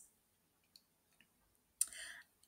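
A computer mouse clicks a few times while navigating accounting reports in Xero: sparse, sharp, quiet taps with a slightly longer rustling click near the end.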